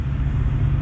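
A car driven by a robot in the film Mandroid, heard as a steady, close, low engine and road rumble that holds unchanged through the short moment, with no voices.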